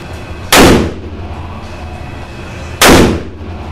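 Two loud, sharp .460 S&W Magnum revolver shots at a shooting range, spaced a couple of seconds apart, each a sudden broadband blast with a short ringing decay.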